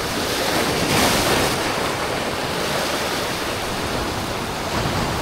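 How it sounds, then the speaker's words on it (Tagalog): Steady ocean surf rolls and washes near a shore where a fisherman catches snapper and grouper, a continuous loud roar of breaking waves with wind buffeting the microphone throughout. "Hintayin natin yung alon."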